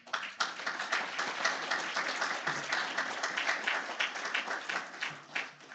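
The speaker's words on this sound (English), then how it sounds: "let us welcome them with a round of applause" An audience at an international university workshop gives a warm round of applause to welcome delegates from visiting countries, a dense, sustained wash of many hands clapping that stays fairly even before tapering at the end.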